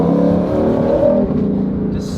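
A supercar's dual-clutch gearbox snaps through the gears under hard acceleration, a loud rising engine roar that drops sharply at a quick shift partway through, then climbs again.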